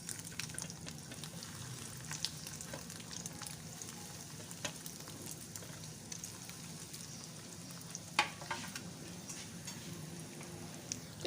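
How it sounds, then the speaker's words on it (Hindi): Chicken potato donuts deep frying in oil give a steady, soft sizzle and crackle throughout, with occasional small pops and stirring sounds, continuous and fairly quiet with no talking. "और अब जो बाकी के बच्चे हैं इनको भी फ्राई कर लेते हैं।"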